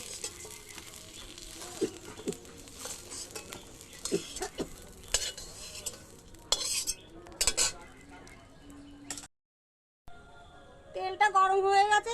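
Fried vegetables for sukto being scooped out of a pan with a metal utensil, giving repeated close scrapes and clinks over a faint sizzle, a brief silent gap, then a sharper run of ringing metallic clatter.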